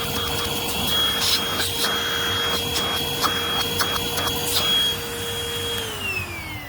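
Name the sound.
Oraimo H3 handheld vacuum cleaner running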